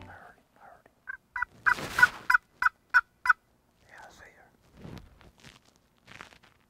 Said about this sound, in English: We got the gobblers down here on the bottom of the canyon. They're coming up, they're gobbling.